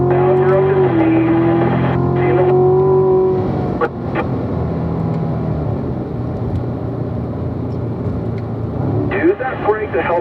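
A Grand Sport car on a track at driving school, engine note droning and climbing in pitch, then easing off and building again near the end, loud and close with an instructor talking over it.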